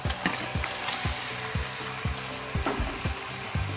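Marinated chicken sizzles in a hot ceramic pan while being cooked for chicken biryani, with a continuous fry crackle and regular soft stirring scrapes about twice a second.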